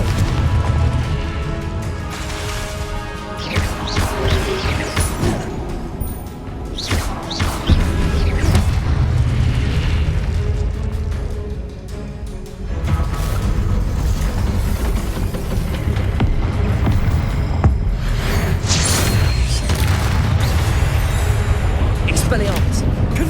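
Repeated Confringo spell blasts in Hogwarts Legacy combat, with booming explosions and crashes under a dense, continuous game mix while a voice shouts spell names throughout.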